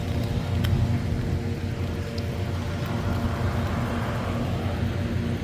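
Road traffic rolling past as a steady low roar and whir of vehicles nearby, continuous with no distinct breaks and no talking.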